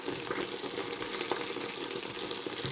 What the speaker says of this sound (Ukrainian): Так, кипить моя аджика.